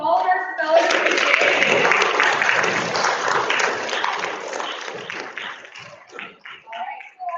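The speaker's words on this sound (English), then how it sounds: "let's give a round of applause to all of our spellers today." Audience applause for spellers at a county spelling bee fills the room, dense clapping that swells early and gradually thins into scattered claps, with a voice speaking over it toward the end.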